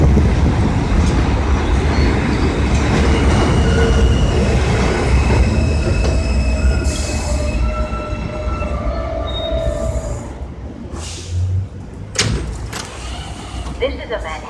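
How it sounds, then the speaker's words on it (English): A Manhattan-bound New York subway J local train rumbles loud and close at the Myrtle Avenue–Broadway elevated station, with steady wheel roar, squealing rails and a fading tail, while a recorded announcement speaks near the end. "This is a Manhattan-bound J local train."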